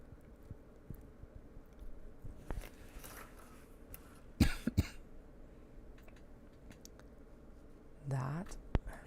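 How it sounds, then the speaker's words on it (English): A few sharp coughs and throat clearing from one person sound close and brief, scattered among quiet background clicks at a sewing session. "That feels like a sick cough."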